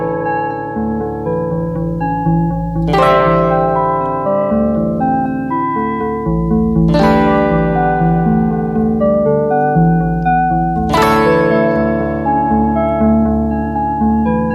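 A sustained synth pad holds while bright, shimmering arpeggiated note sequences, triggered from a 1980s Casio MG-510 MIDI guitar, swell in roughly every four seconds, layered tones ringing out and decaying.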